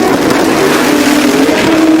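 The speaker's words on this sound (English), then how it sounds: "And Alex spins the tires." A drag race car spins its tires at launch during the Sick Week 2024 event, a loud, sustained engine roar with a rising whining tone filling the full two seconds, with no talking.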